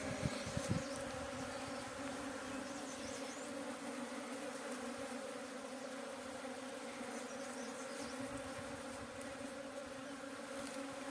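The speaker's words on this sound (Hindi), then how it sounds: "तो ये है दोस्तों मधुमक्खी का स्वार्म।" A honeybee swarm hums in a steady, dense drone, close and continuous throughout, with no voices over it.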